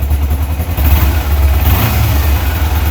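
A 2009 Kawasaki Ninja 250 twin running after starting, a loud close steady engine hum with a low throbbing idle and a slight rise in revs midway, no voices.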